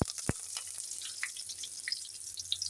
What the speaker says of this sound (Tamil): 2 பச்சை மிளகாய் கீறினது போட்டுடலாம்